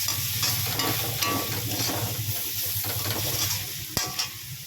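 Cabbage and capsicum stir-fried for chowmein make a loud, close sizzle with rhythmic scraping and clattering of a spatula against the pan, ending with a sharp knock, with no voices.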